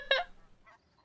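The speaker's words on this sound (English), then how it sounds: "it had a really loud goose honk noise that, like, screamed at me" A single loud, sharp goose honk sounds from a video game menu, brief and close, followed by a fainter second honk and quiet.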